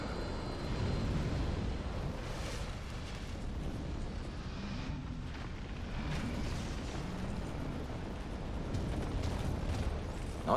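A rumbling, sustained explosion from the Dark Souls 2 video game roars loud and continuously for about ten seconds, with a dense low-end blast texture and no talk over it.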